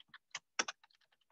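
Rapid keystrokes on a computer keyboard while a MATLAB script is being written, about a dozen irregular clicks over a second and a half, the middle strokes loudest, with no voices.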